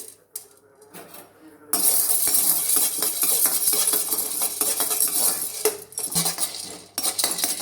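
Peanuts roasting in a pan with a metal spoon, loud dry rattling and scraping as the nuts are stirred and tossed, continuous and close after a quiet start.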